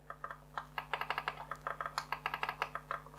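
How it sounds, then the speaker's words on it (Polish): Quick series of light, dull clicks close by from a Marvo M708W wireless vertical mouse's buttons, irregular and rapid like repeated presses, with a faint steady hum beneath. "klik jest lekki i taki dość głuchy"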